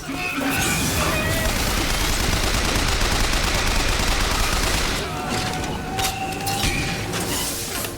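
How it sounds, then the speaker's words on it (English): An SMG in Bioshock Infinite fires in long, dense, continuous bursts, loud and close, the rapid crackle running for several seconds with a brief pause near the middle before resuming. "SMG kinda has crossed audio when it's firing"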